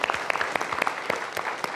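Lecture audience applauding in a hall at an AI policy memorial lecture, a brief burst of scattered, moderately close clapping with no talk.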